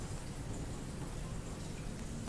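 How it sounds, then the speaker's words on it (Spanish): Steady rain falls in the video game Ad Infinitum, a dense, even hiss of drops with no pauses, holding at a moderate level for the whole stretch with no talking. "Está lloviendo."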